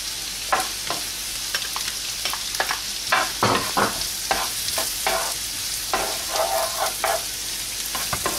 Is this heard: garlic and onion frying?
yes